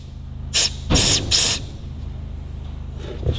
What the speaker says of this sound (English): I'm just going to try and pop this piston out with some compressed air